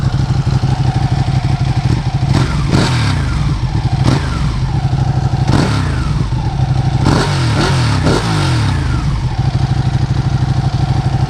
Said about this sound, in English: Bike wants to run, that's for sure.